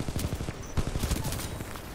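Rapid burst of R-97 submachine gun fire in Titanfall 2, a fast rattling string of shots over a busy game soundscape, fairly quiet in the mix.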